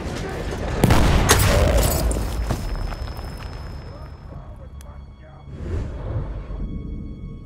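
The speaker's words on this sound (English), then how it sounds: "Aha, onlara bir bomba!" A bomb blast with gunfire in the World War I shooter Battlefield 1: a sharp loud explosion about a second in, then a decaying rumble and scattered shots, with voices talking over the battle.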